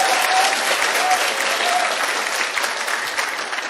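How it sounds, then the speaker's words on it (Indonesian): An audience at a TIENS business seminar in Indonesia applauds loudly and steadily. The close, continuous clapping from many hands fills the whole stretch without easing. "tepuk tangan dong gitu"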